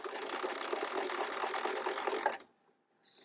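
A sewing machine stitching a seam on homemade bias tape, running in a steady, fast mechanical whir close by, then stopping abruptly before a faint hiss resumes.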